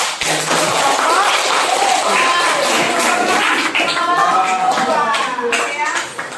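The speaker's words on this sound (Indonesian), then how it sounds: "Kita beri aplaus." Applause from a classroom audience during a group presentation, loud continuous clapping from many hands with a few voices calling out beneath it.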